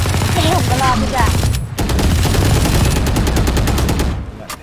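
Gunfire in the Valorant video game: loud, close shots, including rapid automatic bursts, repeat over the clip, with a brief sharp break and a final cluster of shots near the end.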